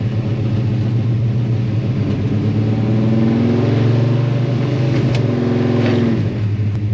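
A car engine topped with two Edelbrock VRS-4150 carburetors on a tunnel ram intake idles loudly with a lumpy rumble, then revs up and settles back, steady and close throughout.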